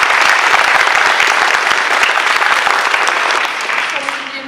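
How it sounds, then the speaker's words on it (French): Strong, dense applause from a theatre audience at a student stage show, continuous and loud, gradually fading at the end as a voice begins speaking. "on peut également applaudir l'excellente Élodie Carlos-Dias"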